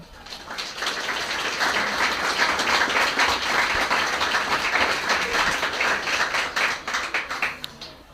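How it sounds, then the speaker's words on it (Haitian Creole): An audience applauds a student presentation, with steady, dense clapping of many hands sustained throughout and tapering slightly at the end, no voices over it. "nous avons demandé pour applaudir"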